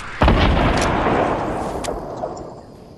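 A video game grenade explodes against a barn with a sharp, heavy blast, followed by a long rumbling decay that fades over about three seconds.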